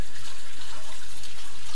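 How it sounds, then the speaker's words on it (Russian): Water pours steadily from a tap into a small saucepan for borscht, a loud, continuous close-up gushing splash lasting the whole moment. "Воду залил чуть-чуточку."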